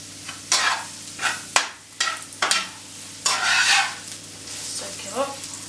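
Mushrooms sizzle and crackle in a hot pan for a Chinese stir fry, with repeated bursts of loud frying as they are stirred and tossed, close and steady, with no talking.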